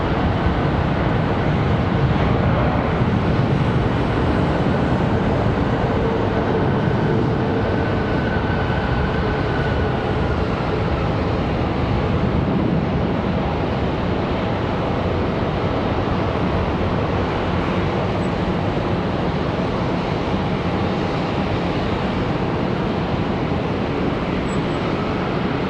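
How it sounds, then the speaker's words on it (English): American Airlines A319 jet departing Charlotte Douglas airport, heard as a steady, loud broadband roar that holds throughout with a faint rising whine, no voices. "Here's our A319 off to Pensacola."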